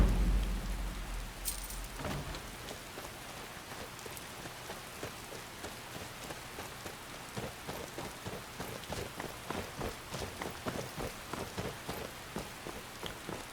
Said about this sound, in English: Fortunately, it started raining